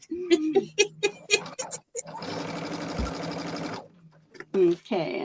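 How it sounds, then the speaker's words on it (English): A domestic sewing machine runs in one steady burst of stitching while quilt blocks are pieced, set between stretches of nearby talk before and after. "Okay, and I'm just sewing all along here."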